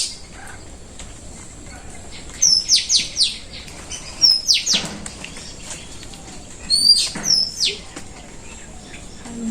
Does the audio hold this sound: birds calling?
yes